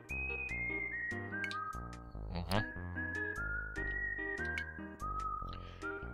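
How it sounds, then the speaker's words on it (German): Stepped electronic whistling tones from the Super Famicom game Gunman's Proof sound loud and sustained. Each pitch holds briefly before dropping to the next, over a chiptune backing, and a voice murmurs once. "Bleibt jetzt dieser pfeifende Ton die ganze Zeit da?"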